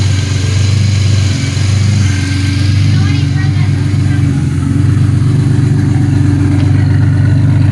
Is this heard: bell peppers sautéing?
no